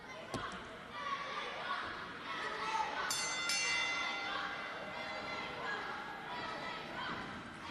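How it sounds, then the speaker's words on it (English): A wrestling ring bell at an independent wrestling supershow, several sharp clangs in a quick cluster midway through, heard over crowd noise and a commentator's voice. "And the bell."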